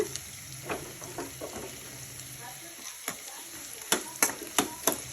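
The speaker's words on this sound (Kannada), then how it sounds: "ನಾನೀಗ ಬೆಂಡೆಕಾಯಿ ಹಾಕ್ಕೋತಾ ಇದ್ದೀನಿ ಹುರಿಯೋದಕ್ಕೆ" Okra frying in a pan with browned onion, a soft steady sizzle broken by sharp stirring clicks and scrapes that come faster toward the end.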